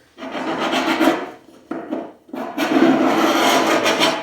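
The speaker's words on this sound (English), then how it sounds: "when you take this screw and scribe, like this right here," A screw scribes a line across wood in two close, loud scratching strokes, a rasping scrape broken by a brief pause.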